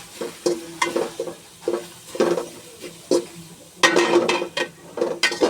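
Onions fry in a pan with a soft sizzle underneath while a spoon stirs them in repeated scraping strokes, with occasional light clinks against the pan, close and fairly loud.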